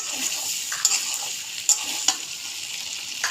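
Spice paste being stir-fried in oil for a prawn and taro curry, a steady close sizzle with a few sharp spoon scrapes and taps against the pan.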